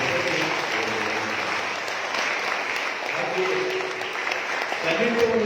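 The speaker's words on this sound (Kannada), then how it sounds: "ಜೋರಾಗಿ ಚಪ್ಪಾಳೆ" Steady applause from a large crowd, loud and sustained for several seconds, with a few voices faintly audible beneath the clapping.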